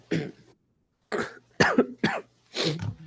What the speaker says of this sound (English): Oh, sorry, you're coughing.